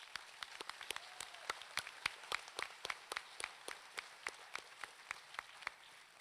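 A graduation ceremony audience claps in a sparse, fairly even stream of sharp individual hand claps, distant and fairly quiet, with no talk over it.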